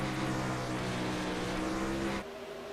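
Roaring 360 sprint car engines race around the Bristol dirt track during a NARC championship night, giving a loud continuous onboard drone that drops off sharply near the end.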